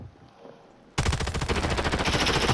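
Rapid automatic gunfire from Call of Duty erupts after a brief quiet stretch, a loud, dense burst of repeated shots that continues to the end.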